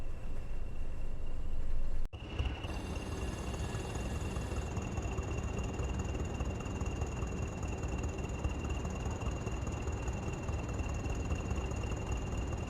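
In the Train Sim World 6 game, a locomotive on the West Coast Main Line between Crewe and Preston runs while standing still, giving a steady low engine hum and rumble with faint high tonal whines, after a brief cut near the start.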